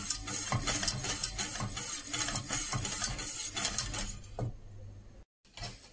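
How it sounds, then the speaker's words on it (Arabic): A spoon stirs a tomato peel mixture in a pot with steady scraping, rhythmic strokes and a light sizzle underneath, close and fairly loud, followed by a brief pause and one last stroke. "غادي نبقى نحرك"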